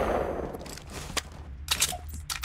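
Gunfire in Fortnite Battle Royale: scattered bursts of game shots, moderately loud over a noisy background, with a few sharper cracks near the end.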